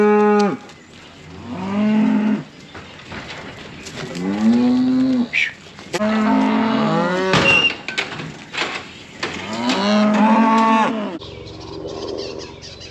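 Bottle calves in a pen mooing repeatedly, several loud, drawn-out bawling calls close by, one after another with short gaps, plus a brief metallic clank partway through.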